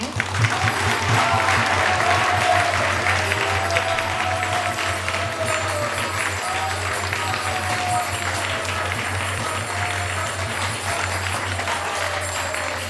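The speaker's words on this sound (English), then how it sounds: "So we'd like to give a huge round of applause for Maya." A temple audience gives a big round of applause for a speaker, loud, dense clapping from many people that stays strong for several seconds and then keeps going at a steady level, with a low hum beneath it.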